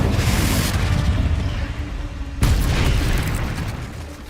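Confringo blasting spell in Hogwarts Legacy sets off a loud, dense rumbling burst that fills the clip, then a second sharp explosive hit near the midpoint with a sustained roar trailing after.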